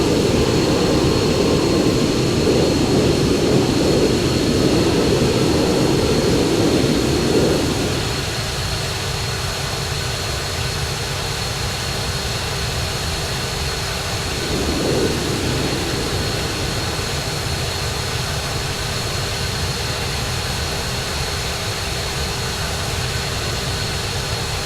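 A jet aircraft in the video game Arma 3 trying to land gives a loud, steady engine roar that drops in pitch and volume partway through, then continues as a lower whine with a brief surge.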